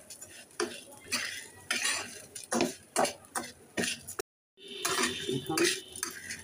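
Flattened rice (chira) with powdered milk frying in a pan, with a spatula repeatedly scraping and clinking against the metal in uneven strokes and a short silent break partway through.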